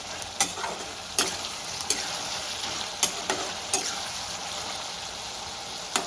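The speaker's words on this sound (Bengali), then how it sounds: "একটু নেড়ে দেবো, দিয়ে আবার ঢেকে দেবো 10 মিনিটের জন্য।" Vegetables for a tomato pasta sauce are stirred in a pan over a gentle hiss of frying, with sharp spoon taps against the pan every second or so.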